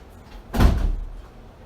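A door opens or closes once with a single solid thump and a short rumbling tail, close and fairly loud, standing alone without talk.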